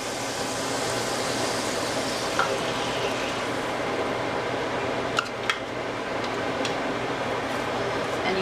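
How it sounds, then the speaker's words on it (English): Heavy cream is stirred in a pan over low heat, the spoon scraping the bottom under a continuous hissing simmer, with a few light clicks of utensil on metal. "you'll want to keep stirring that, making sure that you're scraping the bottom of your pan"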